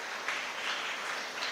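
Faint, steady applause from an audience at a civil services quiz event, a soft even patter of many hands lasting the whole moment with no break.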